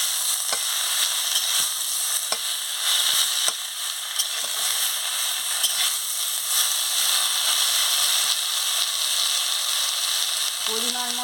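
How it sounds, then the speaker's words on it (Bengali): Chopped pumpkin leaves fry in a pan and get stirred, a loud, steady bright sizzle with a few sharp ticks of the spatula and a brief tonal clink near the end. "এই কুমড়ো শাকের পাতাটা কুচে রেখেছিলাম, দিয়ে দিচ্ছি। দিয়ে ভালো করে একটু নাড়িয়ে নিচ্ছি।"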